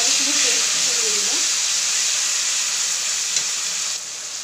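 Ginger garlic paste sizzling and frying in a hot pan while cooking a fish curry, a steady close hiss that fades slightly near the end, with a brief voice at the start.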